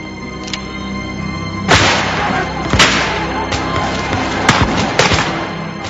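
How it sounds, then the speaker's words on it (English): Several sharp gunshots crack at irregular intervals, loud and echoing, over a constant noisy backdrop, as British soldiers fire on Minutemen approaching the North Bridge. "As the Minutemen approached the North Bridge, the British fired."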